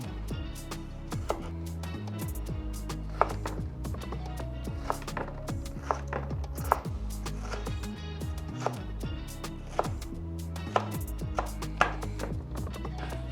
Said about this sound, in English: we do the tomatoes. Same process, try and cut it as small as possible